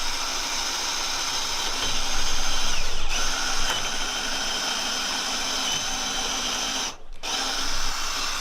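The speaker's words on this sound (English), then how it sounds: "Drilling directly through the joined intersection creates a pathway for a wooden dowel." A power drill bores through the joined intersection of bamboo poles, giving a steady, loud whining drone up close, with a short dip near the end before the grinding resumes.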